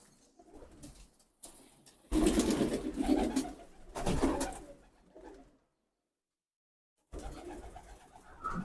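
Ferozpuri pigeon cooing in a few loud close bursts, separated by quieter gaps and a full silence before a last stretch of calls.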